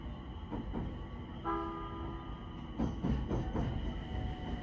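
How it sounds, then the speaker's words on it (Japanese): Low rumbling of a train arriving at Bandai-machi station on the Ban'etsu West Line, with a brief horn-like tone, steady rolling sound at low volume. "この駅で列車のすれ違いが行われまして"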